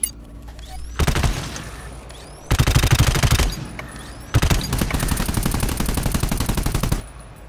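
Rapid automatic gunfire from the video game GTFO rattles in three long, loud bursts separated by short pauses, each burst a dense stream of sharp shots.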